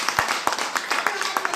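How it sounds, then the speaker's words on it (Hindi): An audience at a direct selling company presentation claps in a brief burst of scattered, uneven handclaps with a voice talking over them. "जोरदार ताली होना चाहिए इसके।"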